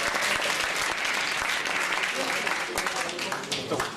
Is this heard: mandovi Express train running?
no